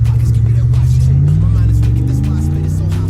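A 1995 Mercedes S500 W140 V8 engine, fitted with a new fuel pump, revs under throttle. The deep, loud, steady drone rises in pitch partway through and stays up, heard close and continuous.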